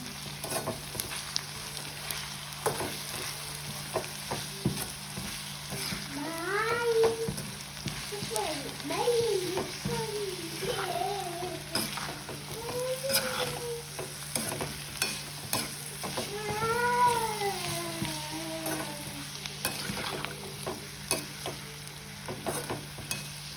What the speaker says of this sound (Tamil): இப்போ இதை வடிவாக கலந்து விட்டுக்கொள்ளுவோம்.